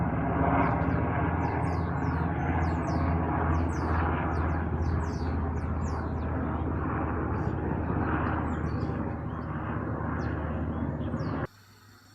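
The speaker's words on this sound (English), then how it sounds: "Noisy bloody helicopters then, aren't they?" Military helicopters pass overhead outdoors with a steady low rotor rumble throughout, fairly loud and continuous, while birds chirp faintly on top; the sound cuts off abruptly near the end.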